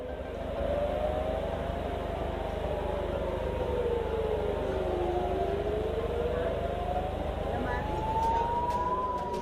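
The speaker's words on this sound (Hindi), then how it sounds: "उत्तरी इलाके में लगातार हवाई हमलों के सायरन बज रहे हैं" Air raid sirens wail across northern Israel, a continuous rising and falling tone sweeping up and down over a steady low rumble, loud and unbroken throughout.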